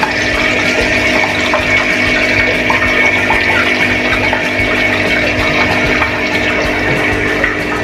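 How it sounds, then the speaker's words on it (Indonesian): Water pours steadily through a siphoned hose into a container, a constant loud rushing and gurgling with a faint mechanical hum beneath. "Langsung aja kita isi air sob, mari nyedot."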